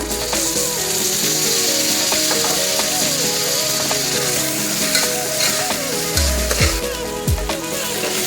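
Masala with tomato frying and being stirred in a pan, a steady loud sizzle with repeated scraping strokes of a spoon and a few heavier thuds toward the end, with music playing in the background.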